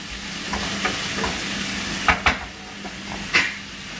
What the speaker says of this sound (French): Donc là j'ai fait revenir des lardons.